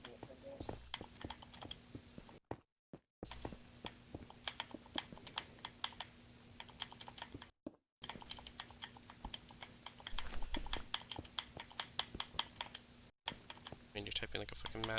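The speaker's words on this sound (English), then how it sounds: "you're typing like a fucking madman" Rapid typing on a computer keyboard during a Minecraft session with friends, a faint, continuous patter of key clicks broken by a few short silent gaps, with voices in the background.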